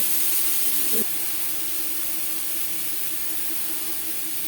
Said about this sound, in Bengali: আম হালকা করে ভেজে নেব